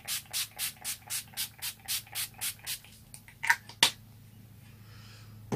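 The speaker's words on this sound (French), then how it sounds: "je vais mettre un coup de spray" An Urban Decay All Nighter makeup setting spray mists out in a quick, even series of about nine short pumped bursts, close and fairly soft, followed by a couple of faint clicks and handling noises.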